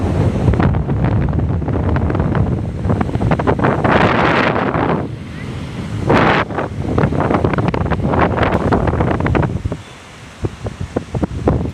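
Strong gusty wind roars across the microphone at a beach on a rainy day with rough sea, loud rumbling buffets mixed with crashing surf, swelling and easing throughout.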